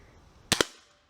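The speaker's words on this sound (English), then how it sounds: "It's just a BB gun." A child's BB gun fires outdoors on a farm: two sharp, quick cracks about a tenth of a second apart, loud and close, then quiet.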